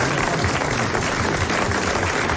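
Studio audience applause on a 1980 French television show: a loud, dense, continuous wash of clapping fills the whole moment without pause.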